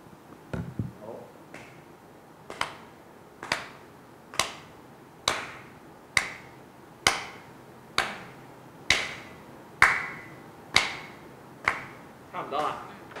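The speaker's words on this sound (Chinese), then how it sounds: "我正話拍手咧，我就純粹靠耳仔聽佢個拍手嘅。" Hands clap together in a steady, even rhythm, about a dozen sharp, fairly close claps roughly one per second, with light voice-like sound in the gaps.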